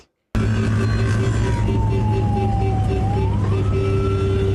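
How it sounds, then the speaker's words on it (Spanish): An ambulance siren on Route 27 in Costa Rica cuts in abruptly and wails loudly and close, its tone slowly gliding down and then back up over a dense rumble of road traffic. "pese a que la unidad llevaba la sirena activada"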